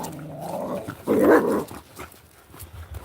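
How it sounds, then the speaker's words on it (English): A dog growls on a cliff-top walk, a low rumbling snarl rising briefly in the middle, close by over faint outdoor background. "We're going to have a go at that dog."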